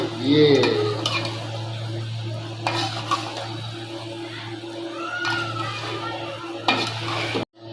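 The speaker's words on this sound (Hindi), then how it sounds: "अब हम इसको बिल्कुल आराम के साथ मिक्स कर लेंगे" Fried okra and onion masala being stirred in a pan, with close, clear spatula scrapes and clinks over a constant low sizzle and a steady background hum.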